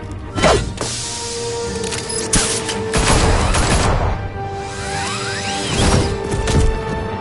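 Gunfire and impacts in a Batman Arkham video game: a few scattered loud shots, thuds and crashes spread across several seconds, with whooshing action sounds between them.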